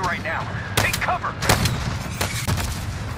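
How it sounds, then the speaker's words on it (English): Warzone battle noise: several sharp explosions and gunshots crack out at irregular intervals over a rumbling background, loud and nearby, with a voice speaking between them. "There's too many explosions."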